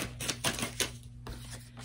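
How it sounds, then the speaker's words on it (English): Tarot cards being shuffled by hand: a close, crisp run of rapid clicking and riffling bursts that come in uneven clusters, then a brief pause and one final sharp snap. "So I'm just gonna actually shuffle and just see what comes out."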